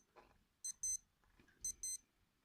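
A Casio W-214H digital watch snooze alarm beeps faintly in two short bursts of rapid high-pitched chirps, about a second apart, against near silence.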